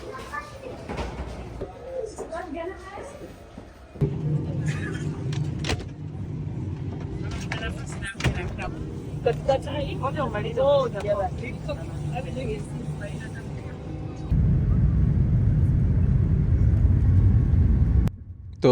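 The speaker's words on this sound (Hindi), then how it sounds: "तो ये फ़्लाइट जो अभी उड़ान भर रहा है यानी कि टेक ऑफ कर रहा है" A passenger jet takes off on a flight from Tanzania toward India via Ethiopia, its engines building from a steady rumble into a loud, sustained roar near the end, with voices talking over much of it.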